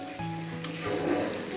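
Ginger and green chili paste fries in a pan for a jhaal potol (spicy pointed gourd) dish, giving a steady, close sizzle with a faint hum underneath and no talking.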